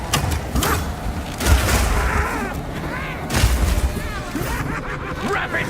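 Rapid bursts of gunfire and booming impacts in the Path of Exile 2 video game, dense repeated shots layered with effects and game voices talking over the combat.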